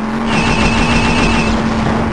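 A car with a rocket launcher and laser cannon drives over the ruined, off-road terrain of the Terminator: Future Shock video game. Its engine drones loudly and steadily on its own, rising slightly as it pulls away.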